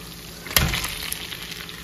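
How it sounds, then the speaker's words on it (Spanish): Potato frying in rendered chorizo fat in a pan, a sharp sizzling burst near the start that settles into a steady, moderately loud crackle with no voices. "Esta papa se va a estar friendo junto con la grasa del chorizo"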